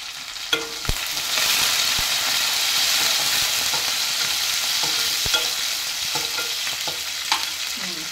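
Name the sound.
frying cumin, fenugreek leaves and green chillies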